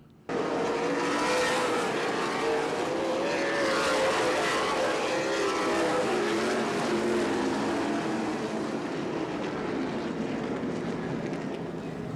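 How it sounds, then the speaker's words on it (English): Race cars at Anderson Speedway in a CRA Super Series race roar down the main straightaway, a loud, sustained engine drone with rising and falling pitch as the field passes, no voices. "And the 31 of Aaron Pierce whoops it down the main straightaway"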